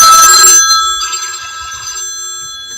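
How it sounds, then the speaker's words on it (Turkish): A mobile phone rings loudly with a bright electronic tone for about half a second, then the ring fades to faint ringing tones over a quiet room. "Telefonum çalmakta."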